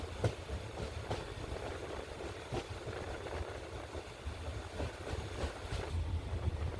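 A Kollam–Alappuzha passenger train pulls into platform one at Karunagappally station, its steady heavy rumble broken by repeated clacking wheel beats and metallic knocks, close by and continuous throughout.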